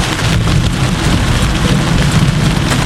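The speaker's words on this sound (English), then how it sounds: "Very deep thunder." Deep, rolling thunder rumbles continuously during a heavy Florida storm in July, a loud low roar blended with the steady hiss of dense rain, sustained without distinct breaks and with no voices.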